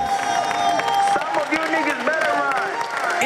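An audience at an improvised theatre evening applauds and cheers, with clapping rising under a lively crowd and overlapping voices throughout.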